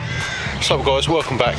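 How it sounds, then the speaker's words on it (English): Crows cawing in the background of an outdoor spot beside a car fitted with BC Racing coilovers, harsh repeated squawks under someone talking close to the microphone. "Excuse the squawky birds in the background."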